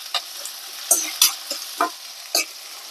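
Onion and green chillies fry in a pan for a makki ki roti and sarson ka saag meal, a steady faint sizzle broken by several sharp spoon scrapes and clinks against the pan.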